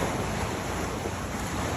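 Ocean surf washing along the shoreline at Homer, Alaska, a steady broadband wash with wind noise buffeting the microphone, continuous and fairly close with no talk.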